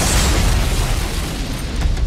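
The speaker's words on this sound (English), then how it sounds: "wild explosions." Film explosion effects from the movie Total Recall: a loud, dense, rumbling boom with heavy low-end roar that stays sustained and fairly even over two seconds, with no one talking.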